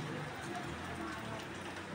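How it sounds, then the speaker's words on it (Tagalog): Heavy rain falls in a steady, even hiss with no distinct drops, fairly quiet and unbroken throughout. "Tignan nyo naman yung ulan"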